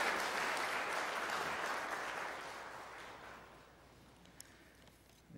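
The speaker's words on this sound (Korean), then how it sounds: "여러분들 따뜻한 박수 부탁드리겠습니다" Warm applause from a church congregation during a Sunday service, a broad sustained clatter of many hands that gradually fades away, ending with a faint knock.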